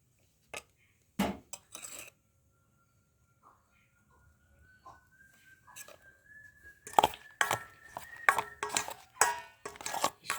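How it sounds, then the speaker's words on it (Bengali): Raw prawns, mustard oil and other paturi ingredients mixed with a spoon in a bowl, scattered clinks and scrapes of metal on the dish, sparse at first and then more frequent, with a faint whistling tone underneath. "চামচ দিয়ে সুন্দরভাবে মাখিয়ে নেব। আর একটু সর্ষের তেল দেব।"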